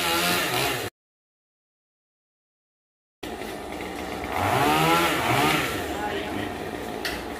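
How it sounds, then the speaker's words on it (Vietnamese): A loud chainsaw engine roars and revs steadily while cutting a tree branch beside a church roof, cutting off briefly before resuming with rising whine, with voices talking over it nearby. "rồi anh chuẩn bị cưa nha quý vị"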